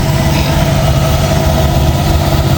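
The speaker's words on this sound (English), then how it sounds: "This is a big train." A big freight train with double DPU locomotives passes close by at Horseshoe Curve, its heavy diesel engines producing a loud, steady low rumble and drone throughout, with no talking.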